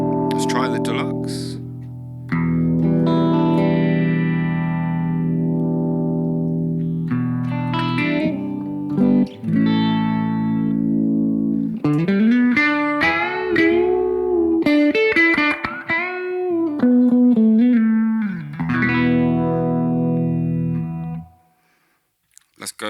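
Electric guitar played through the Deluxe amp model of a BOSS GT-1000 processor, giving clean, ringing notes and chords. Several phrases with sustained tones and bends run close and loud, then the guitar fades to near silence at the end.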